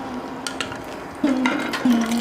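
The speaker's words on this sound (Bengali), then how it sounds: "সর্ষেটা দিয়ে একটু নাড়াচাড়া করলাম আর শুকনো লঙ্কাটা একটু নাড়াচাড়া করে নিলাম" Mustard seeds and dried red chilli get stirred in a pan, with scraping spoon strokes and light clinks over a soft sizzle, a couple of louder strokes near the end.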